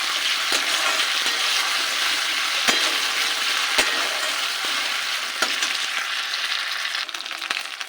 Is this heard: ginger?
yes